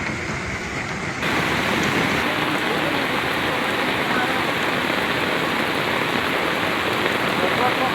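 Heavy rain from a shear line and cold front in Catanduanes, Philippines, pours down steadily in a dense, continuous hiss that swells louder after the first second and holds, close and enveloping.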